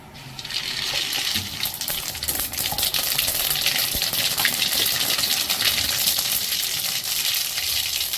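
Mustard seeds splutter and crackle in hot oil while tempering for a dried-fish curry, making a dense, steady frying hiss with scattered pops, close and fairly loud, with no talking.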